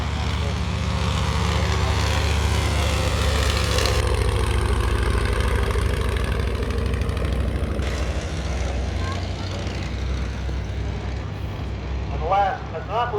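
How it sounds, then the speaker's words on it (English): A Fleet Finch biplane's 160-horsepower five-cylinder Kinner radial engine runs with a steady mid-pitched drone and throbbing low hum, loud and continuous, easing slightly toward the end. Faint chirps and sounds appear near the close. "the Fleet Finch once again with its 5-cylinder Tinner radial engine of"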